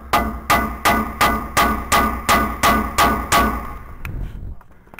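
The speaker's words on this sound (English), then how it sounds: "go ahead and gently give these a little bit of a tap to separate it from the axle housing itself" A hammer taps repeatedly on a rear wheel bearing housing of a 2007 second-generation Toyota Tundra to free it from the axle, ten or so evenly spaced metallic knocks, close and moderately loud, then a few faint clinks.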